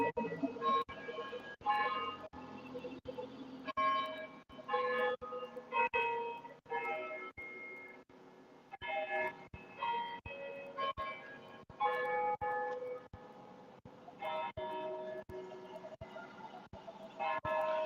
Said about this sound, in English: Hear those chimes from that church?